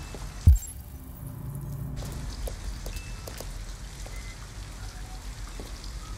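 Rain falls steadily and continuously, a close, even patter throughout, with one brief low thump near the start and no voices.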